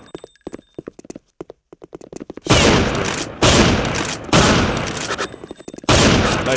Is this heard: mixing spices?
no